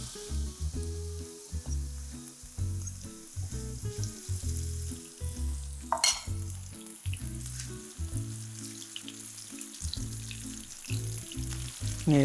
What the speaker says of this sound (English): So I think the oil is probably ready now. Yes. So you just drop this in.